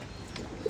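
Pigeons coo faintly in a brief, low murmur while being given drinking water mixed with a liver tonic, soft and close in a quiet setting.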